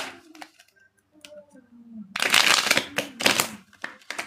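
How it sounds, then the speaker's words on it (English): Tarot cards are shuffled in a rapid riffling flurry of crisp papery slaps and ticks, starting after a quieter stretch with some faint handling and a brief voice early on. "Shuffle again a little bit more."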